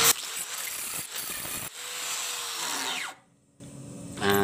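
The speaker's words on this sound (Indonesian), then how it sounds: "Kita ratakan dulu. Ini cuman pakai pembelah beton ini lor." An angle grinder fitted with a concrete cutting disc flattens knife steel, with a harsh whine that comes in bursts, cuts out briefly near the end, then starts up again.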